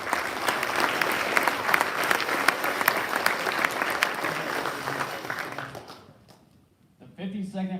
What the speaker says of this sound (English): Let's have another round of applause for all of our Category 2 civilian nominees.